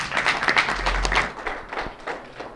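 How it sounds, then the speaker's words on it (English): Audience applause at a talk on healthy neighborhoods and food deserts, a burst of dense clapping from many hands that gradually thins out and fades toward the end. "Another round of applause for that work."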